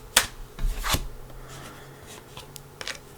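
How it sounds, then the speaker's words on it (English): A tarot deck is shuffled by hand, producing a few quick riffling swishes and soft card rubs close up, followed by quieter handling. "Alright, we're going to shuffle."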